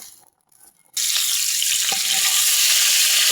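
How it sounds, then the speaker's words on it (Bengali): Eggs dropped into hot oil in a pan burst into a loud, steady sizzle after a second of near quiet, the bright crackling frying continuing close up with no talk. "এখানে ডিমগুলো ভাজে নিব"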